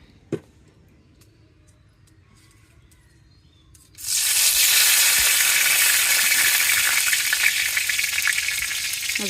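Meat hitting hot oil in a pan for a Bengali kosha: after a quiet stretch with faint clinks, a loud, steady sizzle and frying hiss starts suddenly and carries on, close up.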